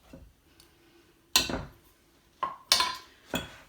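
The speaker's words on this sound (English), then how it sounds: "So I'm going to stir this cup of cooked wild rice, which was about 1/3 of a cup to start with," A spoon stirs cooked wild rice into muffin batter in a bowl, giving a few sharp clinks and scrapes against the bowl that are spaced irregularly over quiet background.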